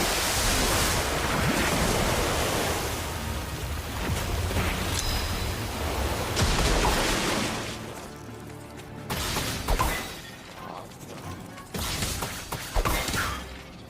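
Hogwarts Legacy's Orb of Water spell, a loud rushing wash like surging surf and wind, swelling and churning for several seconds before breaking into shorter splashy bursts.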